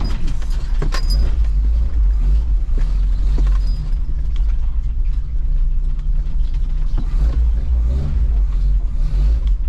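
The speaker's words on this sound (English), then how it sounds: "The motor's running good, but still need more power top end." The engine of a 1977 Toyota Chinook camper runs steadily with a deep, loud low rumble, and faint mechanical clicks and rattles sit on top of the idle.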